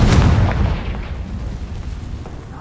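A Confringo blasting spell explodes in the Hogwarts Legacy video game, a loud booming burst at the start that rumbles and slowly fades into a low, crackling tail.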